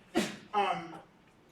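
A person sneezes: a sharp intake followed by a short, explosive burst, close and moderately loud, then quiet.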